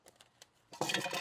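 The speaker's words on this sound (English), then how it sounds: "Scrape off the sides." Spatula scraping the sides of a mixing bowl of banana bread batter: a few faint clinks, then a louder, sustained scraping rasp near the close.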